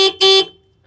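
Two short, loud, bright blasts from the single horn of a Grevol pickup truck, close by, with a brief gap between them before the sound fades.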